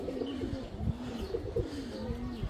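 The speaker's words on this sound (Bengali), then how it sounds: "এটা সিঙ্গেল একটা মাদি কবুতর" A single plain female pigeon gives low, rolling coos close by, several in a steady rhythmic sequence filling the short stretch.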